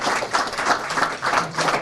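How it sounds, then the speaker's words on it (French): Short burst of clapping from an audience at a family memorial celebration of life, dense and fairly close, pulsing in uneven waves with no talk over it. "Est-ce qu'ils peuvent applaudir les bancs pour la vie de Papa Samuel?"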